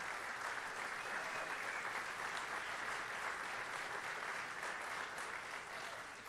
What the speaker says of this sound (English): Give one more big round of applause to all of our recipients tonight